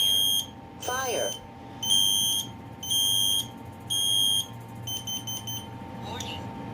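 A Kidde P4010LDCS-W escape light smoke alarm sounds a series of loud, piercing beeps in roughly one-second pulses, then softer, quicker chirps, with a brief voice in the background.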